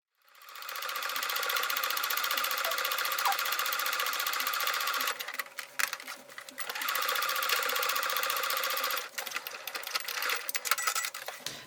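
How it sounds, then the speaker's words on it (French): Sewing machine stitching a seam along the edge of a recycled denim handbag, a steady close rapid whirring run that breaks off briefly in stuttering bursts and then resumes. "on va faire une couture ici comme ça sur le bord"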